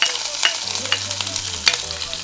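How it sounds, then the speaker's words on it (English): Mustard seeds, garlic and green chili fry in a little oil in a heated pan, a close steady sizzle with a few sharp crackles and stirring taps, no one speaking. "Now heat the pan and put little bit oil, add mustard seed, garlic"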